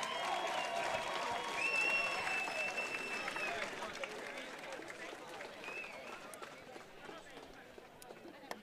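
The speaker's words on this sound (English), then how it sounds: "Have a round of applause for that." Crowd applause at an amateur boxing fight night, a distant, fairly faint roar of clapping and cheering with a few whistles, fading gradually under an announcer's voice.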